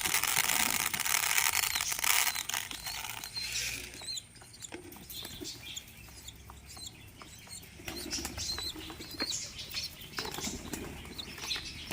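Wings flap in quick bursts near by, a bird taking off with fluttering beats, followed by quieter rustles and soft taps.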